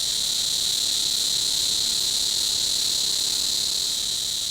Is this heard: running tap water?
no